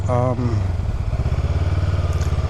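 2023 Honda Rebel 500 SE motorcycle riding, a steady low engine thrum with a rapid pulsing rhythm, a rider's voice talking over it at the start.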